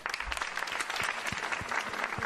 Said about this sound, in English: So we appreciate the enthusiasm, but please withhold your applause.